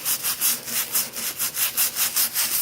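Stiff scrubbing of grout with Black Diamond grout cleaner: about ten quick, even back-and-forth strokes, close and loud, with a harsh rasping texture and no talking.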